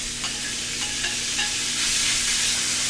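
Thin strips of beef sizzle loudly in a smoking-hot pan while a spatula scrapes and tosses them, a dense continuous hiss with a few quick scraping strokes, close and without voices.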